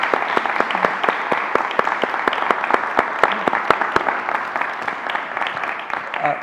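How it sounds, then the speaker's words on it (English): Audience applauding at the close of a panel discussion on analytics and the 2022 midterm elections, a steady wash of clapping with sharp individual claps standing out, sustained and fairly loud throughout. "So if you could join me in a round of applause for our panel discussion."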